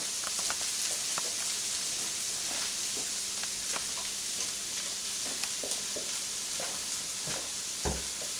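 Food frying in oil in a covered pan gives a steady, close crackling sizzle throughout, with scattered pops and small spits over the continuous hiss and no talking.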